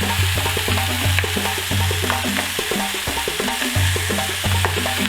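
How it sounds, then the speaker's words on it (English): Onions frying in a pan for a South African tomato and onion sauce, a loud steady sizzle with repeated rhythmic stirring and scraping knocks close up, no voices. "Just going to get these onions added in here."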